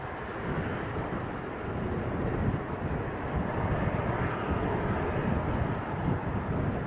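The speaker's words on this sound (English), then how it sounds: "we do have an aircraft on approach as well, which is Jet 2 from Rhodes." A Jet2 aircraft on approach at Leeds Bradford Airport, a broad, steady jet roar with wind buffeting that swells slightly and holds, moderately loud and unaccompanied by talk.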